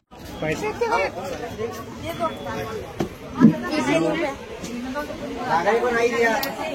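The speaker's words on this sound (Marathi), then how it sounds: "भरपूर गर्दी आहे गाडीमध्ये, पाहू शकता तुम्ही भरपूरशी गर्दी आहे" Passenger chatter inside a crowded MSRTC bus between Buldhana and Sambhajinagar, overlapping voices and murmuring with engine rumble beneath, moderately loud with a few louder bursts.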